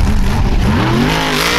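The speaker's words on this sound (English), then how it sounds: "then floors the car for the final gate" A Formula Offroad car at full throttle in Iceland roars loudly close by, the engine note climbing steadily in pitch as it accelerates hard, raw and dominant with no talk.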